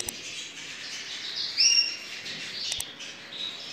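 Canary giving a few short, high chirps while being held in the hand, faint and close over quiet background handling noise.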